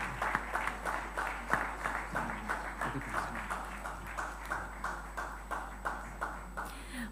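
An audience claps at an award tribute ceremony in a Spanish town hall. The claps are rhythmic and fairly close, settling into a steady beat, and a faint constant electronic hum sits underneath.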